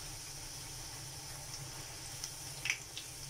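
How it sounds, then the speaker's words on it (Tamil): A semolina and ajwain wheat poori fries in hot oil with a faint, steady bubbling sizzle and a few small pops that grow toward the end. "நம்ம இந்த பூரி எடுத்து எண்ணெயில் போட்டுக்கலாம்"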